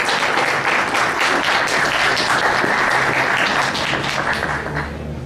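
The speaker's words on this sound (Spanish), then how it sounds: "Un fuerte aplauso, por favor." Audience applause at an evening lecture event, a dense burst of many hands clapping steadily and loudly for about five seconds before starting to taper off.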